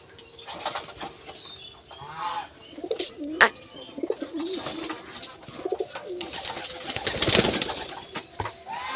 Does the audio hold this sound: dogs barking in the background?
no